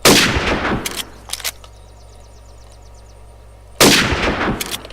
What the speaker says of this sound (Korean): 매우 익숙한 총소리다.